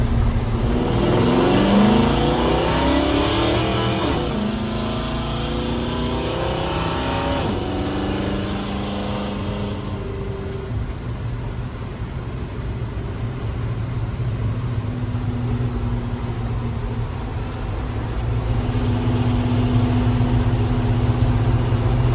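A Dodge Little Red Express truck with a new engine revs hard on a test drive, the engine note climbing through gears before settling into a steady, close droning cruise.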